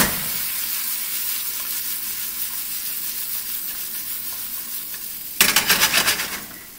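Bell peppers and carrot going into a hot pan for pasta with confit tomatoes, a loud continuous sizzle that swells into a burst of vigorous stirring near the end, close and without talk.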